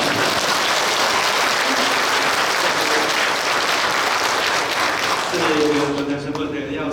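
Congregation applauding during a Catholic Sunday Mass, dense sustained clapping filling the church for several seconds, then fading near the end as a voice begins speaking over the last of it.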